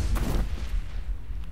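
An explosion in the Mass Effect video game, a sharp booming burst that rumbles and fades over about a second, loud and close.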